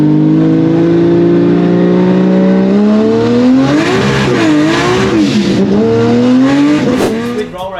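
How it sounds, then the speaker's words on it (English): A Barra-powered drag ute doing big burnouts at a roll racing event: loud, sustained engine roar climbing in pitch, then wavering revs with tire squeal through the middle, continuous and close throughout. "it just wanted to do big burnouts"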